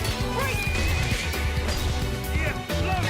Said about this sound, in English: I love that these dudes just make like normal ass horse noises